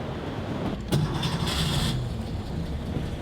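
A Porsche 911 with an upgraded engine cranks and fires, a short starting burst catching into a running engine before settling down under steady background noise.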